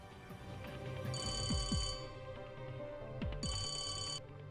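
A telephone rings in two bursts of bright, warbling electronic trills, each about a second long with a pause between, over a low indoor background.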